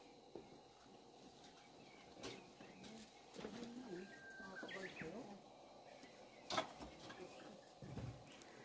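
Faint birdsong in quiet early-morning mountain air at Seseok on Jirisan, Korea, with scattered chirps and a soft cooing call, plus a few brief louder peeps.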